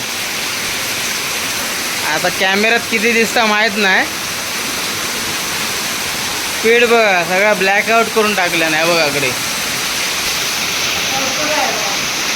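Heavy rain pours in a constant, loud broadband hiss that fills the whole stretch, while someone talks over it in two bursts.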